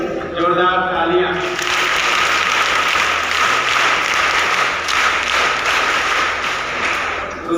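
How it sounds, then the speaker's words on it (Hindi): Audience applause at a school certificate, medal and trophy award ceremony for a student, steady dense clapping filling the room for several seconds, opening briefly over a voice before settling into continuous applause. "एक बार बच्ची के लिए जोरदार तालियां।"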